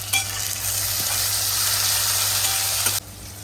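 Onion and tomato fry in a hot pan with a loud, steady sizzle while a utensil stirs and scrapes through them, close up, before the sizzle drops back at the end.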